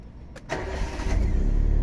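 A car engine cranks and catches after a fuel pump replacement, a short starter whir followed by a close, steady idle rising in level, with no talking.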